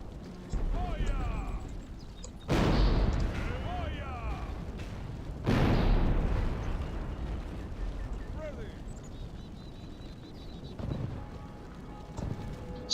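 Siege artillery in Medieval II: Total War pounding the walls of a Northern European fortress, with two heavy booming impacts several seconds apart over a noisy battlefield din and distant battle cries.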